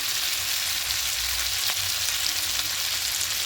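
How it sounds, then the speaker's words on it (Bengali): Spice masala with chilli and cumin powder frying in a pan for a Bengali pabda fish curry, a steady, dense hiss of sizzling held close and fairly loud throughout, with one faint tap and no talking. "জিরে গুঁড়োটা দিয়ে আর একটু ভালো করে কষিয়ে নেব"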